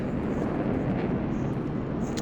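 A jet passes overhead in Microsoft Flight Simulator 2024 at Charlotte during a Cessna CJ4 cold start, a steady broadband roar with a dense low rumble that holds at an even level for about two seconds.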